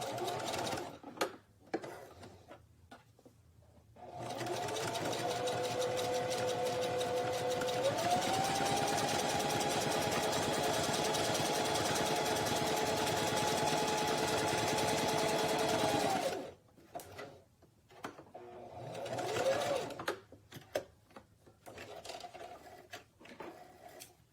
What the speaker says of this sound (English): And I'm gonna back stitch again.